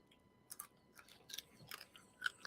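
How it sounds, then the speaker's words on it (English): Crunchy cold fried chicken strips from a fast-food loaded nacho chicken sandwich being chewed up close, a series of sharp, irregular crunching bites spread over a couple of seconds with no talking. "don't know if you can hear that crunch"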